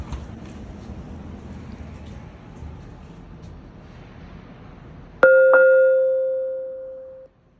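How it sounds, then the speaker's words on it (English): A single loud electronic elevator arrival chime from a ThyssenKrupp ISIS machine-room-less traction elevator rings out clearly, a bright two-tone ding that sustains and slowly fades over about two seconds after low background hum. "we're going to go ahead and sample the chime."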